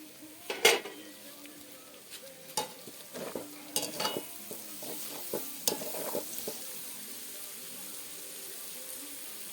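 Peppers and spaghetti are stirred in a cauldron, with scraping and clinking of the utensil against metal over a soft sizzle, loudest at the start and fading into a quieter hiss.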